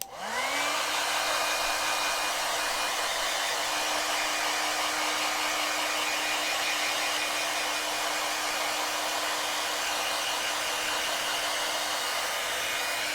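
A hair dryer blows hot air steadily over watercolor paint on a rose painting, a loud continuous whir with a high whine that holds for the whole stretch, no voices.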